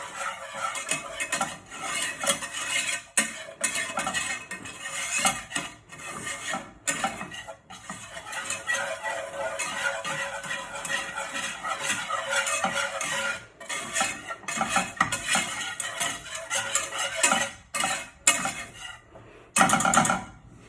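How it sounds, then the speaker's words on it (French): A flour and butter roux is stirred in a pan with a utensil scraping and clinking against the metal for about twenty seconds, steady and close, with a soft sizzle underneath and no talking. "on va mélanger jusqu'à temps que ça fasse un roux"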